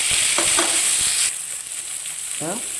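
Onions fry with a steady sizzle filling the pan, with a few scraping stirs of a utensil; a faint voice-like sound briefly appears near the end.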